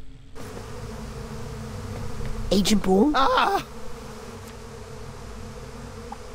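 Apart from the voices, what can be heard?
buzzing bees in Psychonauts 2 video game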